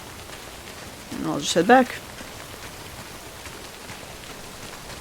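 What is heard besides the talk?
rain in the video game Death Stranding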